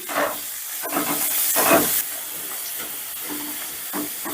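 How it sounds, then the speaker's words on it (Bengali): Thinly sliced carrot frying in a pan for vegetable pulao gives a steady, moderately loud hiss and sizzle, with a few brief clatters. "প্রথমে গাজরটা দিলাম যেহেতু গাজরটা ভাজা হতে একটু সময় লাগবে সেজন্য প্রথমে আমি গাজরটা ভেজে নিচ্ছি"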